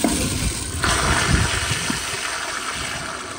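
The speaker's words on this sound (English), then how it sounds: "So here is the first flush." A 2005 Gerber Ultraflush pressure-assist toilet flushes with a sudden loud whoosh of rushing water, then a sustained forceful roar that slowly eases.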